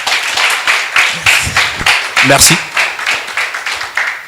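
A TV studio audience claps in a steady, rhythmic unison beat that stays loud and close throughout, with a voice briefly speaking over the clapping.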